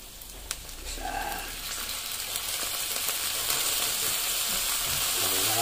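Pork sizzles in a pan with soy sauce, a quiet continuous hiss and crackle that slowly builds in strength, with faint stirring and no talk over it.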